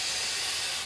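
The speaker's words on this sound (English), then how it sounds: "spray it again" A continuous close hiss of hairspray misted onto stray hairs, one steady burst lasting under a second.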